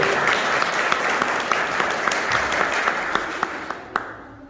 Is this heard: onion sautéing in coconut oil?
no